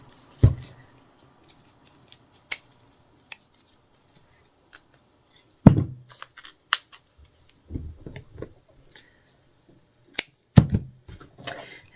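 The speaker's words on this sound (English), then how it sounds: "Wrap it around. And then snip." Scissors snip ribbon for a Dollar Tree snowman craft: sharp isolated cuts spaced a few seconds apart, close and crisp, with soft handling rustles between them in an otherwise quiet room.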